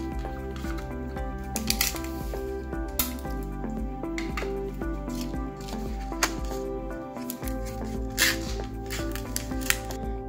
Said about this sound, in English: And then tape it down so that it is secure.